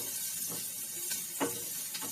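Sliced onions fry in hot mustard oil for an eggplant and soya keema bharta, making a soft, steady sizzle with a few brief stirring scrapes rising above it.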